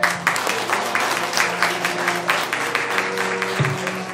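Wedding guests clapping at a small ceremony, a steady round of applause from a crowd, fairly close and even throughout.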